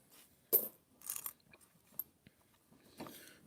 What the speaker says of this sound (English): she's chewing on a bone.